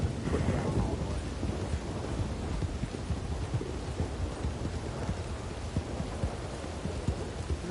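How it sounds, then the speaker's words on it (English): Rain falling steadily in Red Dead Online with deep thunder rumbling, a louder roll at the start fading into a continuous hiss of rain and low grumbles over several seconds. "it's raining right now"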